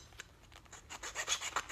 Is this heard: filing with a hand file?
yes